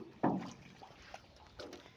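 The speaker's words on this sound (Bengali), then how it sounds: "সে কিন্তু নৌকাটা চালাচ্ছে" A small wooden boat carrying water inside is rowed along, giving a faint knock of wood and soft sloshing strokes, close by and quiet, with no talk.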